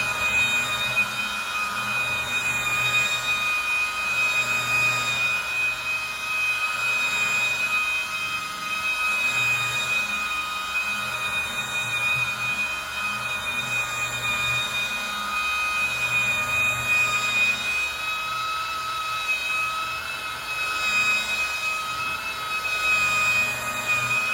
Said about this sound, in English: I want to buff out the hood like that, the trunk and the top